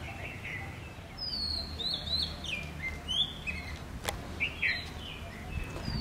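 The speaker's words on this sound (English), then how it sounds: "Can you hear the birds chirping?" Several birds chirp and tweet in short, high bursts over a soft, low background rumble, fairly faint and spread out, outdoors at a meditation centre in Delhi.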